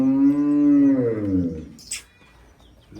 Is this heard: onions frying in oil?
no